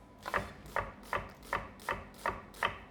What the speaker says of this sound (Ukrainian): цибулю ріжемо півкільцями